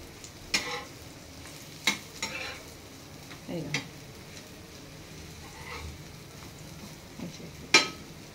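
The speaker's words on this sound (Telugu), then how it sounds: "తిప్పేసుకున్నాక మంచిగా ఇవి ఫ్రై అనేది తెలుస్తుంది" Spicy egg omelette with pepper frying in a pan, a soft continuous sizzle broken by occasional spatula scrapes and taps.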